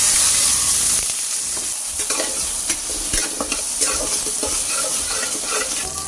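Tomato, capsicum and onion crackle and sizzle loudly in a pan while a spatula stirs them briskly, giving repeated scraping clinks over a dense, continuous frying hiss, with no talk.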